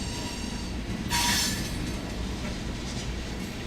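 A train rolls past in Waycross with a locomotive placed mid-consist, a steady distant rumble of cars on rails broken by a brief sharp wheel squeal partway through.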